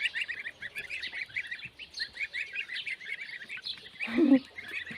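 Goslings chirp in rapid high peeps, fairly faint and continuous, with a brief lower squawk near the end.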